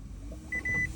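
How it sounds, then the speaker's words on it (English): A Toyota Prius starts up with a short electronic beep tone rising over a low, quiet idle hum inside the car, lasting under a second. "Now I'll start the car all the way"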